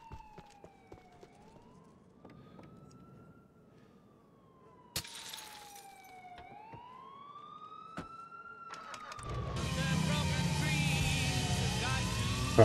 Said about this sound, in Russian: А вон, кстати, едет полицейская машина.